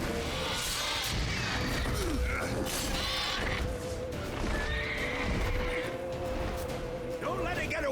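A horse in The Witcher 3 gallops with rapid hoofbeats and lets out several whinnies amid creaking, clanking gear and background game sounds, with a player's voice talking over the action.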